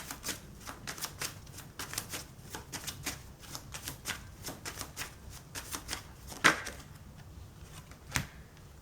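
Tarot cards being shuffled and drawn for a pick-a-card reading: a steady run of crisp, rapid card flicks and riffles, fairly quiet and close, with one sharper slap near the end and no talking.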